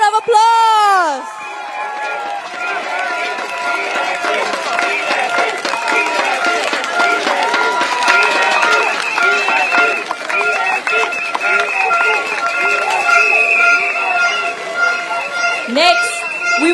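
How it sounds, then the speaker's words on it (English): A large crowd at a PAP political rally in Bedok Stadium, Singapore, applauding and cheering in a continuous, dense roar that stays loud throughout and swells near the end, with shouting voices mixed in. "A round of applause."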